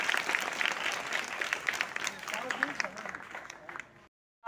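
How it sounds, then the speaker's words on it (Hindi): A crowd at a school prize-giving claps loudly and steadily, with a voice speaking over the applause, before it fades out and cuts to silence near the end. "एक बार जोरदार फिर से ताली बजाइए"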